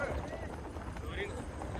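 Horses gallop in a race at Jaisalmer, a steady rapid clatter of hooves under a commentator's continuous talk, the whole mix faint and distant.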